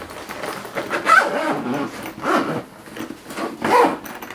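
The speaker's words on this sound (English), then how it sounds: "Once you guys stick it on, let's zip it back up." The zipper on a Henkelion pet backpack carrier is drawn closed in three rasping pulls, loud and close, with short pauses between strokes.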